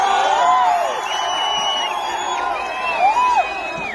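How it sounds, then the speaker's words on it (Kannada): A large crowd at a live stage event with an actor present cheers and whoops, with shrill whistles rising and falling over a dense, steady roar of voices. "ಅವ್ರಿಗೂ ಒಂದು ಜೋರ್ ಚಪ್ಪಾಳೆ ಬರಲಿ"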